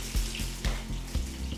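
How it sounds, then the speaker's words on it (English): Cream pours into an almost empty mustard jar, a wet gurgling trickle with soft rhythmic glugs, close and fairly loud with no talking. "pour it into the mustard"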